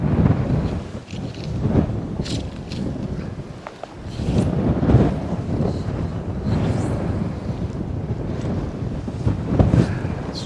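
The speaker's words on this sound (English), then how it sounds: "This wind is tricky." Strong winter wind buffets the microphone outdoors during fly fishing, a continuous loud rumbling roar that swells and eases in gusts, with no speech.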